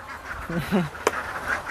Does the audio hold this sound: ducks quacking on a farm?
yes